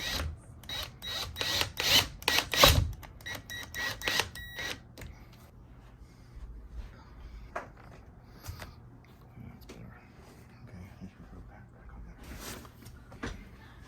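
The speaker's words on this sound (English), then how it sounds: "Screwing in the 2 screws." Two screws are driven in to mount walnut wooden wall hooks, with creaking, ratcheting mechanical turns and clicks, busiest early on and then thinning into sparse scrapes and taps.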